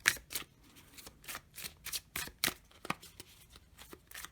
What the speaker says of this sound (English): You can shuffle them the regular way,